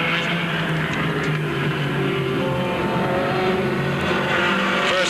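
Race cars in a 1988 heat race at Beech Ridge Motor Speedway roar together in a dense, steady engine drone with faint tire noise, a continuous pack sound with no talk over it.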